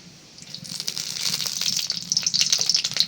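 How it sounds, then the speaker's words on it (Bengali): Mustard oil hitting a hot wok (kadai) for a meat dish sets off a steady hissing sizzle that swells over the first half-second and keeps crackling close and fairly loud, with no talk. "কড়াইটা গরম হয়ে গেছে, দিয়ে দিলাম সরিষার তেল।"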